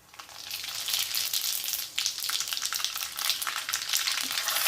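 Cumin and mustard seeds hit hot oil and sizzle, a bright crackling hiss that swells quickly and keeps popping and spattering, close and steady with no voices.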